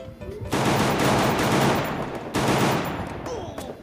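Loud, dense automatic gunfire erupts in a shooting video game, two long sustained bursts of rapid shots close up, with a brief gap between them.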